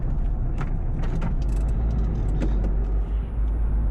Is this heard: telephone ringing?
no